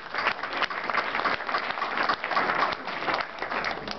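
An audience at a book presentation for a dictionary of Mexican writers claps in sustained, even applause that stays steady and moderately loud for the whole stretch.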